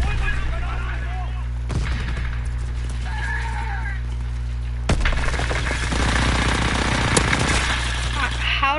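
Gunfire in a World War II video game: a few sharp shots and a burst of rapid fire cut through dense, constant game noise, with horse-like whinnies and some voice mixed in.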